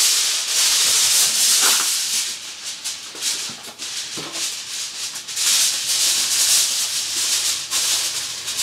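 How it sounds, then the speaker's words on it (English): Aluminum foil is crinkled and pressed over a lasagna pan, giving repeated bursts of crisp, close rustling and rubbing with short pauses between the handling strokes. "Now you get some aluminum foil and you just cover the pan with it."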